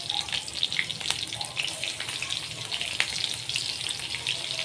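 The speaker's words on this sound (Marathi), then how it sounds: "मिरच्या परतल्या का लसूण टाकू" Garlic frying in hot oil in a wok while tempering green chillies for a ghost-gourd vegetable dish, a steady close crackling sizzle running throughout with a few sharper pops.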